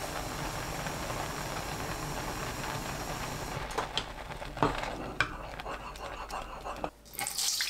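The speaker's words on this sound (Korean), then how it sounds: "센 불로 저어가면서 끓입니다" Liquid boils over high heat while being stirred, giving a steady broad hiss with a few soft knocks. The hiss thins partway through before a brief louder surge at the end.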